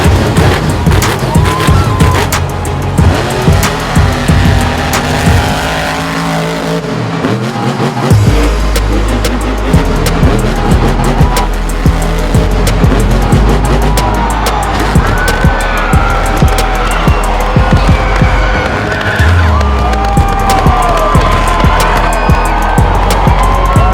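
A Monster Jam truck at the World Finals roars at full throttle toward a seven-truck jump, loud revving engine mixed with crowd and arena noise, a brief lull then a heavy surge continuing to the end.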